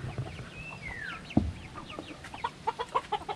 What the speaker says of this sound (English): He's a Chinese silky chicken.